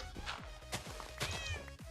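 A cat meows several times in a zombie video game, with short, fairly quiet calls close together over soft background game sounds.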